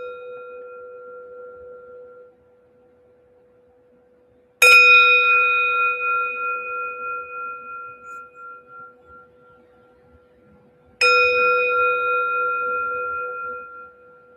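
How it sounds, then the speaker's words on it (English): A meditation bell with a temple-bell tone is struck twice, several seconds apart. Each strike rings out clear and close, then fades in a long, slowly decaying shimmer over a faint steady tone. "I want to ring our bell to start"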